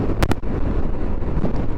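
Strong wind buffets the microphone on a Royal Enfield Himalayan motorcycle ride in the Jammu and Kashmir hills, a loud continuous roar with two brief sharp bursts near the start.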